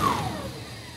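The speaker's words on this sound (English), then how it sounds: "Now I'm going to take this terminal and listen to the motor." A shunt DC motor with a loose connection winds down under braking action, giving a short whirring tone that falls steadily in pitch and fades over about a second.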